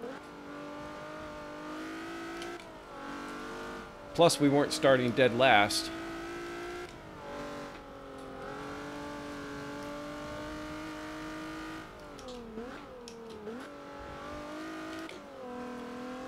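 Race car in the game Forza, engine revving and shifting through gears, with a loud burst of tire squeal partway through and the motor droning on afterward, while someone talks over it.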